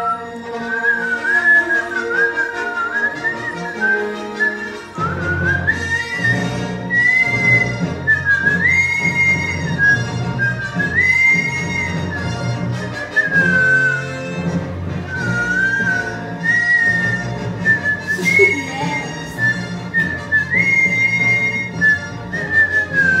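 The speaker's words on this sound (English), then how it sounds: "today I am going to be whistling for you." A fourth-grade child whistles a melody solo, clear and close, with sustained notes and gentle pitch slides over a quiet instrumental backing.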